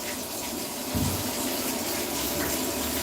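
Tap water runs steadily to fill a spray bottle indoors, a continuous close gush with a slight change in tone partway through as the stream shifts.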